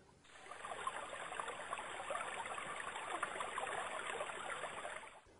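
A river flows in a steady, continuous rush of water, like a babbling stream running over stones, holding an even level throughout with no voices.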